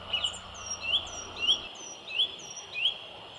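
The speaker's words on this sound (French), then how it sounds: "ou celui de la grive musicienne." A song thrush repeats short, crisp whistled phrases at a steady pace, five clear bursts in a row, close and distinct against quiet surroundings.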